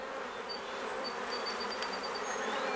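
Honeybees swarm around an open hive during a honey harvest, filling the air with a dense, constant buzz, individual bees whining close past now and then above the droning mass.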